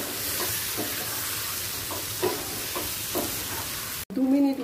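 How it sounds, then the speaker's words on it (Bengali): Dal being stir-fried in a pan with fried onion and egg, a steady sizzle with scraping stirs throughout, ending in a brief louder clatter. "ডালটা দিয়ে 1 মিনিট একটু কষিয়ে নেব।"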